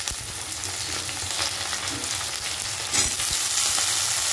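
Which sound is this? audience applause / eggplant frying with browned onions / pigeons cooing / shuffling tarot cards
eggplant frying with browned onions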